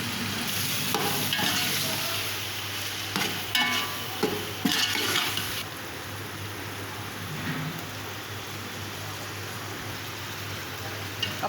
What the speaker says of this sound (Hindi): बिरयानी के लिए जो मैंने सालन बना रही हूँ उसको भून रही हूँ